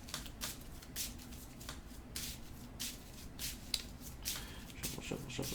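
A deck of cards being shuffled during a Marvel Champions card game: soft riffling bursts repeating every half second or so, quiet and close, with no talking.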